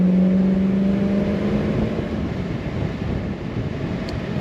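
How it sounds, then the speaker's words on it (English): The engine of a 1965 Ford Mustang convertible gives a steady, low, nearby rumble with a faint hum on top. It fades slightly over a few seconds, and no one talks. "This car, a nice soft rumble to it. When you get on it, you can hear it."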